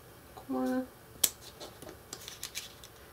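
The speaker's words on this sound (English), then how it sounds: "I find it just as easy, if not easier, to use my scissors." Scissors snip through a paper craft model piece for a Christmas village church, a few quiet close crisp cuts with faint paper rustling amid low room noise.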